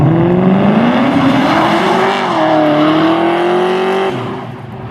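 A Ford Falcon XR8 with a 248-horsepower Windsor V8 in Need for Speed High Stakes revs loud and close, a steady rising and falling engine drone that eases off at the end.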